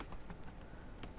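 Typing on a computer keyboard gives a quick run of soft, light key clicks at an uneven rhythm, faint and close, with no talking.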